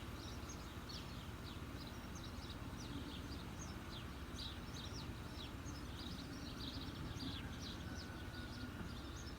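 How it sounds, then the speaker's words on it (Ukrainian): Birds sing on a goat farm, repeated short chirps and trills scattered through the clip at moderate distance over a steady low rumble of background noise. "Поют птицы"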